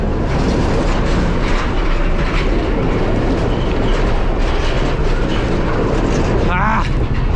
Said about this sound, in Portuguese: Olha o embalo desse trem.